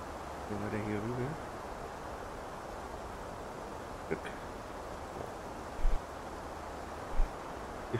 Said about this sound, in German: Ist blöder Wind jetzt, ne?